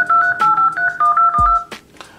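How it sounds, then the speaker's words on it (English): Keypad dialing tones from an Alcatel 3V smartphone, a rapid run of about nine short dual-tone beeps in close succession, loud and clean with no talking. "once the dialer is up, you can input your phone number that you want to call"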